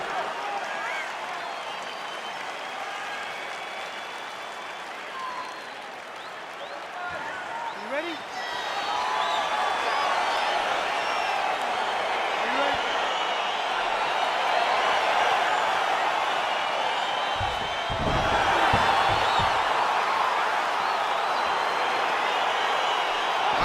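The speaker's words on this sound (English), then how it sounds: "Crowd getting excited as this fight gets underway" A crowd roars in a UFC fight simulation video game, a broad steady wash of arena noise that swells louder partway through and holds high to the end.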